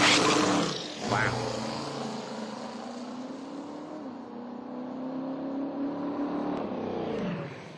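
A turbocharged drag racing car at the Lights Out 7 eliminations revs hard, its loud roaring engine building boost with a rising, strained tone that swells and holds before dropping off.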